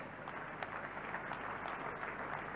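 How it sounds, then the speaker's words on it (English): Church congregation clapping for Jesus Christ, a continuous, even patter of many hands at moderate distance, steady throughout with no voice standing out. "Let's clap for Jesus Christ."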